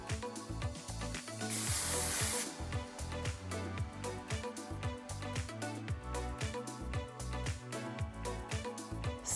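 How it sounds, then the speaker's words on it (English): Texture spray with volume and powder hisses in one short aerosol burst, aimed upward from underneath into falling hair, a close bright spritz lasting about a second over steady rhythmic background music. "I like to spray from the underneath, spraying up, spraying, dropping the hair into it."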